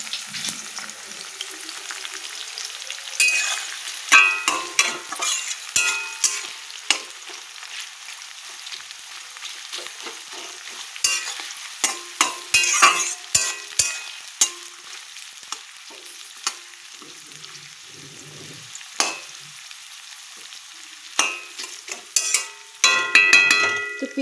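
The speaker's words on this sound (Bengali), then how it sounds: "তো সেই রসুনগুলো দিয়ে দিই তেলের উপরে" Whole garlic cloves fry in hot oil for a chicken curry, giving a steady sizzle broken by frequent scraping clicks and taps of a spoon stirring in the pan, close by and with no talk.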